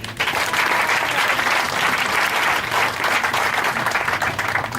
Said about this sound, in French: Est-ce qu'on peut acclamer ici?